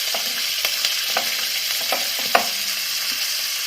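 Garlic cloves, ginger and chopped green chili frying with spices in a pan make a steady close sizzle, broken by repeated light taps and scrapes of a stirring spoon, with no talk.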